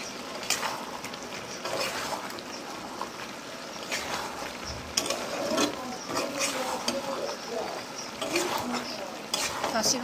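Mutton being stirred in a pan for a Bengali-style karahi as the meat releases its juices, repeated scraping and clanking strokes over a low sizzle, close and steady across the stretch.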